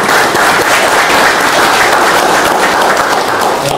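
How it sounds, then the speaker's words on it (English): A loud, dense round of applause from the audience for Grenada's High Commissioner, sustained and evenly thick from start to finish with no talking over it. "Please give him a round of applause."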